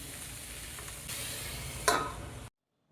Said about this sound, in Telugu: వీటిని ఒకసారి తిప్పేసుకుని ఒక 5 మినిట్స్ అయితే మూత పెట్టుకొని కుక్ చేసుకోండి.